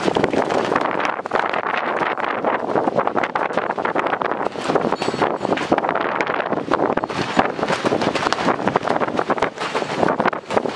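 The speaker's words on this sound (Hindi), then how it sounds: "यहाँ पे बहुत हवा चल रही है" Strong mountain wind buffets the microphone at a high-altitude monastery site in Zanskar, a loud, steady rushing roar with gusty surges throughout and no voices.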